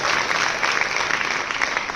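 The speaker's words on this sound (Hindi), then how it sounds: "ताली बजाओ अच्छी कविता।" An audience at a Hindi poetry recital gives steady, dense applause after a poem. The clapping is loud and continuous throughout, with the crowd close by.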